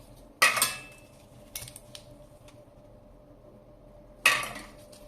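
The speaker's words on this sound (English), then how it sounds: "let me peel off the caps here" Three sharp plastic snaps and clicks from button caps being pried off a wireless Xbox 360 controller, close by and separated by quiet gaps, with a softer tick in between.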